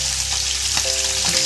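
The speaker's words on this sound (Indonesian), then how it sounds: "ini dia kita goreng garing." Garong fish deep-frying in hot oil, a steady close crackling sizzle that runs without a break, with faint stirring bumps and no voices.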